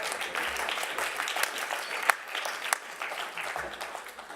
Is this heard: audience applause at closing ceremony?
yes